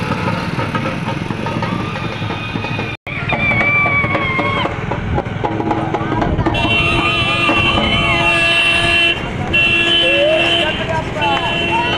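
Packed road during a Ganpati immersion procession in Jalgaon, with a steady loud wash of traffic and engines, sustained horn-like tones and beeps cutting through, and people talking in the crowd.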